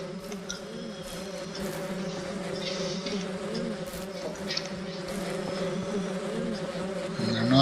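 Bees swarm around a hive in the Ranch Simulator game, a dense, continuous droning buzz with layered wingbeat tones, close and steady throughout with small rising swells.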